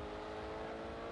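A race car engine drones steadily at high revs under acceleration in the racing video game Grid 2, a continuous loud whirring tone with no talk.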